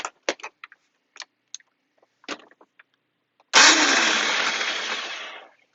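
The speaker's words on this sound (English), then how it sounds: "So I put a flywheel motor for this, and it seems to run good on 3S." A Nerf Titan blaster modded with a flywheel motor on a 3S battery: several sharp clicks and switch taps, then the flywheel suddenly spins up into a loud, steady high whir for about two seconds before winding down.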